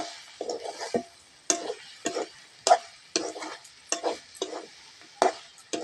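A spoon stirs dried cabbage curry with garam masala in a pan, producing a steady rhythm of scraping strokes about every half second, close and clear, with faint sizzle between strokes and no voices.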